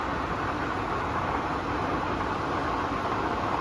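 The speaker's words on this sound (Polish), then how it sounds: "To stukanie to jest deszcz o nasz, o nasz RV." Steady dense rain patters on an RV roof overhead, a constant hiss-like drumming with no pauses.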